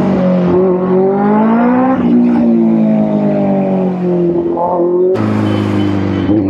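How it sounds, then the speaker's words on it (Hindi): A Benelli 600i motorcycle with a changed, loud aftermarket exhaust revs up and down close by, a deep throaty drone rising and falling, with a sharp jump in pitch near the end. "यार लाउडनेस तो बड़ी प्यारी इसकी, अभी स्मूथिंग हो गई आवाज"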